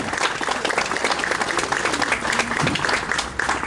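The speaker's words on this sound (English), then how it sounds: "I wanted one more round of applause" Sustained applause from an audience at an awards ceremony for a car meet, dense steady clapping throughout with a few faint voices mixed in.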